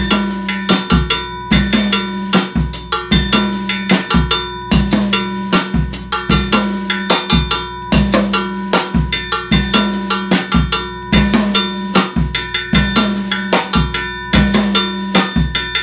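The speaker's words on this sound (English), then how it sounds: "So we're going to go ahead and play the mambo pattern with that" A drum set plays the mambo bell pattern in a 2-3 feel, with steady, loud bell strokes locked over a repeating kick and tom groove that runs throughout.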